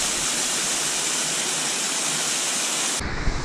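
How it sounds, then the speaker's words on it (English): Spruce Flats Falls pouring over rocks, a loud steady roar of rushing water heard close up, broadband and unbroken, shifting slightly at the end as wind buffets the microphone. "so here's another view of Spruce Flats Falls"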